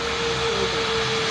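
Steady airplane engine drone in the PTFS flight game, a continuous even hum with a sustained tonal whine running unchanged throughout, loud and alone with no talking.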